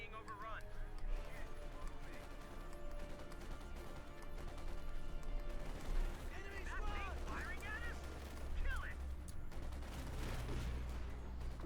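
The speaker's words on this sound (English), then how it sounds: "Machine gun there suppressing the lieutenant, very good." MG42 machine gun fire in a Company of Heroes 2 battle, faint rattling bursts buried in a dense mix of game combat noise, while a commentator talks continuously over it.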